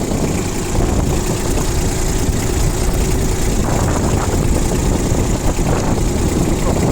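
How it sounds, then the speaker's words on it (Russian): A Yanmar Ke-60 tractor engine runs steadily and evenly, a loud, dense, continuous clatter close up that holds without change throughout. "Я думаю, что отлично слышно, как трактор работает. Работает ровно"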